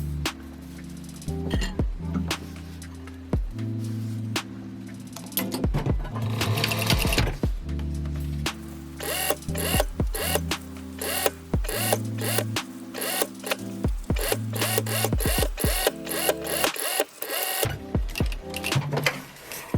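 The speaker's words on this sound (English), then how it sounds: "Stitch it in place." A sewing machine stitches fabric binding onto a wide-brim sun visor in rapid whirring bursts, stopping and restarting several times with short clicks and pauses between runs.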